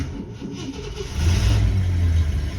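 A 1970 Ford Country Squire wagon's engine cranks and catches, its loud mid-range churn swelling into a steadier, heavier rumble partway through, close up with no talking.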